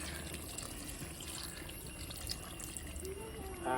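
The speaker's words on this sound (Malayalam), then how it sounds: "തേങ്ങാപ്പാൽ ഒഴിക്കണേ." Coconut milk is poured into a pan of country chicken curry, a faint, steady liquid pour with a soft trickling texture that rises slightly at the end.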